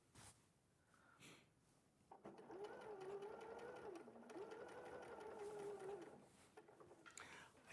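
A domestic sewing machine stitches a straight line, its motor whirring steadily for several seconds at close range after a quieter start, with a brief pause midway and light background chatter.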